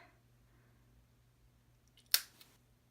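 Scissors cutting a paper letter for a scrapbook: a single sharp snip, close and crisp, after a few seconds of near quiet.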